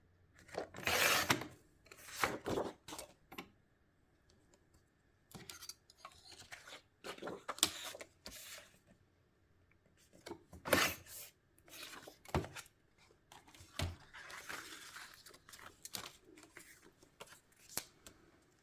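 Scrapbook paper is trimmed, cutting a branding strip off a 4x4 piece, with bursts of close rasping, sliding and cutting noises separated by short pauses.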